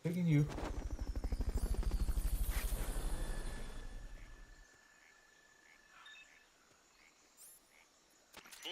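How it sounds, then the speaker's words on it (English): A Fulton recovery helicopter in Metal Gear Solid: Peace Walker gives a loud, steady rhythmic rotor chop that swells and then fades out partway through, leaving quieter game sounds and brief tones. "Fulton recovery subject confirmed onboard helicopter."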